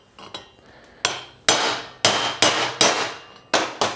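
A punch made from a weed eater crankshaft is struck with a hammer, about seven sharp metallic blows in an uneven rhythm, loud and close with short ringing decays.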